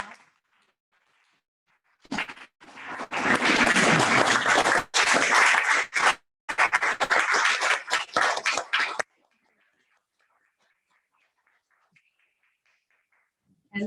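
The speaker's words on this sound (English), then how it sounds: "We should give her an applause standing up" Audience applause at a BTMC meeting in honour of a speaker, with a round of loud, dense clapping that runs about seven seconds with a brief dip in the middle, then cuts to near silence.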